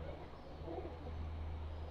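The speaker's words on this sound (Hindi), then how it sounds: "ब्रीडर कबूतर है जी" Low, soft cooing from an older breeder pigeon, a steady murmur close by with faint background noise and no talk.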